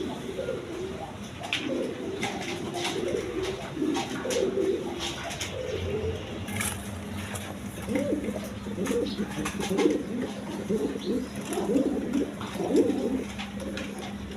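Colored fancy pigeons at a seller's loft coo steadily in low, throaty, rolling calls that overlap from several birds close by, with a few brief chirps and faint background voices.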